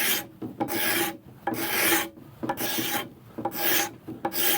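Hand finishing tool rasping a wooden axe handle, rhythmic back-and-forth scraping strokes about once per second with short gaps between, close and loud, no talking.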